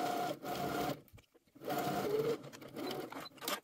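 A sewing machine stitches a dress sleeve hem close to the fold edge in two steady runs with a short pause between, close and clear with no talking.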